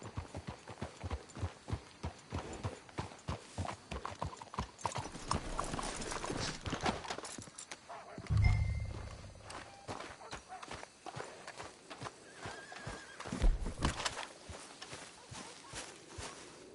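Horses' hooves clip-clop steadily at a walking pace in the video game Red Dead Redemption II, with a snort or whinny partway through and a few faint voices in the background.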